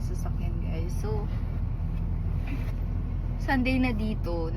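Car engine idling while warming up on a cold day in Canada, a low continuous hum beneath people talking close by.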